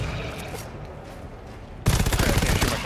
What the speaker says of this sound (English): Let me shoot things first because I have a shotgun.